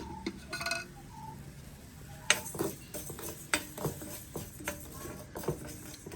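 Fenugreek seeds being dry roasted in a pan, heard as light metallic clinks and taps of a spoon scraping and stirring at an irregular pace, fairly quiet and close, with no talking.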